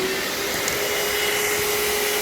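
A Bissell carpet cleaner's motor runs with a loud, steady, unbroken vacuum-like roar and whine, close up and alone.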